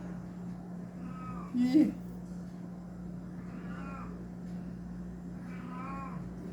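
A pet cat meows for more food, giving a few faint meows spaced a couple of seconds apart over a low steady hum, with a brief spoken word early on.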